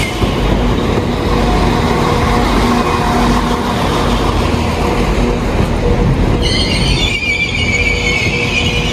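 A train rolls along beside a station platform with heavy, steady rumble and clatter, then sharp high wheel squeals cut in near the end, loud and close, with no talking.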